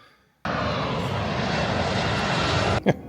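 A jet airliner's engines roar loudly and steadily near an airport, a broadband blast starting abruptly and holding for over two seconds before cutting off sharply.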